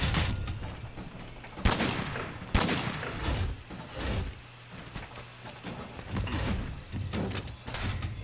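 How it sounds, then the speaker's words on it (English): Gun lance firing shells in Monster Hunter, a series of sharp explosive blasts and metallic weapon clanks at irregular intervals over game background ambience. "The gun lance is a close-range weapon that also fires shells."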